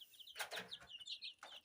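Six-day-old tiger chicken chicks on a farm cheep in quick, high, overlapping peeps, several birds close by and faint, with no talking.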